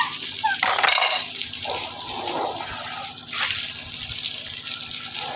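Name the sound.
water running from a dishwashing tap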